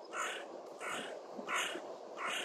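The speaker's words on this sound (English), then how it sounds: "You hear the birds singing" Crows cawing in a sunny park on a mild midwinter day, repeated harsh calls in a steady rhythm of about four caws, moderately near and clear, with no talk over them.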